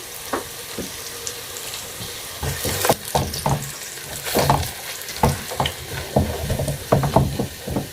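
Onions sizzling in a pan with bay leaves, cinnamon stick and cardamom, a steady close frying hiss broken by repeated scraping and stirring clatters of a utensil against the pan, without talk.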